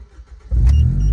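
A modified car with a K24 engine self-starts after a quiet moment, catching abruptly into a loud, deep, steady idle rumble close by, with no talk.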